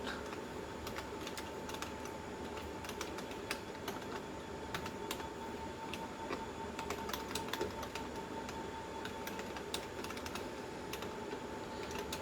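Steady, rapid clicking of a computer keyboard as code is typed, close and continuous with irregular bursts of keystrokes over a faint background hum.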